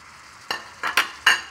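Celery tossed into a hot wok stir fry with shiitake mushrooms: a few quick, sharp scrapes and clinks of a utensil against the wok over a faint sizzle.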